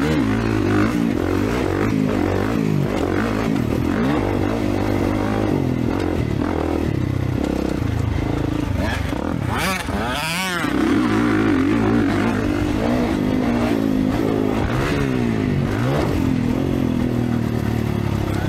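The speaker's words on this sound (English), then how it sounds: "Man, that FMF exhaust sounds so good on this bike." A 2024 Kawasaki KX450 motocross bike fitted with an FMF exhaust revs loud and close on a Stillwater MX track, its engine rising and falling through throttle bursts amid clatter and a brief dip near the middle.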